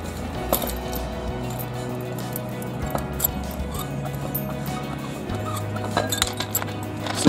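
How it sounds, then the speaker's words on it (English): A worker opens the large-diameter cap on a fire hydrant, producing repeated metallic clinks and clanks over a low mechanical hum, with a few sharper knocks toward the end. "Then I'm going to go ahead and I'm going to open up my large diameter cap"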